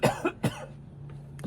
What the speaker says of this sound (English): And I got a cough because I've been sick for the last few days.